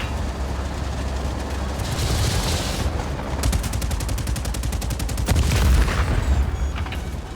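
Rapid machine gun fire from the video game Just Cause 4, loud bursts of tightly spaced shots over rumbling booms and a steady mechanical drone, with the fastest volley in the middle.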